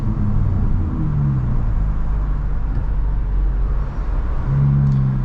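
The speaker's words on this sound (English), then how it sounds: "It's probably the best sounding car I've ever driven." A loud Audi RS3 drives through Boston traffic with a deep, steady engine drone heard from inside the cabin, its pitch rising briefly as the car accelerates.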